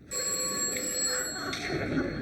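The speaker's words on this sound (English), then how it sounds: "Answer the phone, Anthony." A telephone bell rings steadily, a bright metallic trill sustained for a couple of seconds, fairly close and clear.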